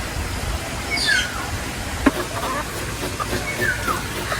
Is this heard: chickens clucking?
yes